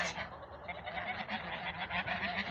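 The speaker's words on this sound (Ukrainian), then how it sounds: "10 гусей." Geese honk on a smallholding farmyard in autumn, a flock calling over one another in a dense, continuous chorus of loud overlapping honks at close range.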